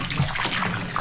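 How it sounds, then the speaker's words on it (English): Water pouring from a hose pipe into a tub, a steady close rushing splash with a slight gurgle running throughout, no voices. "The hose pipe is over there. And filling this tub here at the moment."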